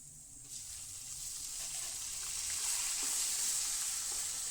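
Onion paste added to a spice masala in a hot pan for Gujarati tuver thotha, bringing a steady, soft sizzle of frying that swells a little after it goes in, with faint stirring and no talk.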